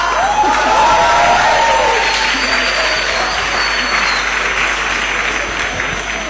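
An audience in a hall applauds and cheers warmly for a nervous speaker, dense steady clapping with a few whoops, fairly loud and close, fading slightly toward the end.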